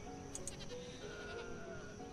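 Goats bleating in the village-building game Banished, a couple of short faint calls near the start over a quiet ambient game background.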